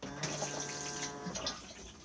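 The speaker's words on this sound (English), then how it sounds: "we have the Thetford cassette toilet. Open to the cassette just here, and then push to flush on top." A Thetford cassette toilet in a caravan flushes with a close, steady rush of running water and a faint pump hum, lasting about two seconds with no talk over it.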